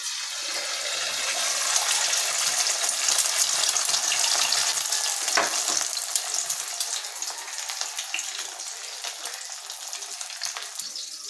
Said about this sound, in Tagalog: Ayan po ang ating niluluto yung itlog.